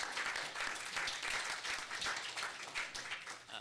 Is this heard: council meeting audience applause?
yes